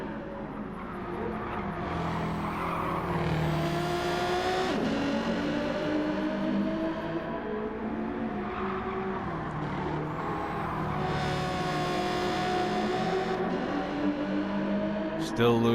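Race cars in an endurance racing video game, with engines droning and revving continuously, rising and falling through gear changes, while a commentator talks over the action.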